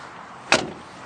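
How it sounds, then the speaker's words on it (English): A single solid thunk of a car door shutting on a dark gray car in nice shape, one sharp close impact midway with a brief decay, otherwise quiet. "you can just hear that door shut."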